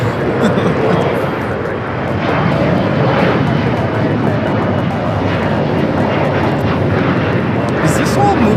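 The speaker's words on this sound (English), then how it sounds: "Korean Air Queen flying downwind." A Korean Air Boeing 747 flies near LAX, its jet engines giving a loud, continuous broadband roar that holds steady throughout, with people talking over it.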